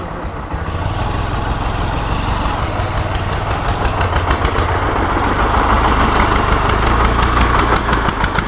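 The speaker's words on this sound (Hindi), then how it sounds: "ये छोटे से इंजन से गाड़ी बनाई है और ये माल तो बाहर कर दिया, उसके बाद भी चढ़ नहीं रही है।" A homemade jugaad vehicle built around a small engine labours uphill on a steep ghat road, its motor droning and chugging steadily and loud throughout, straining without letting up.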